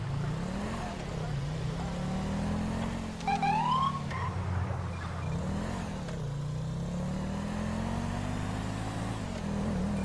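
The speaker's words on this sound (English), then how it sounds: "I just love the siren." A video game police car siren wails in repeating rising and falling sweeps over a steady engine drone, with a brief burst of chirping yelps in the middle.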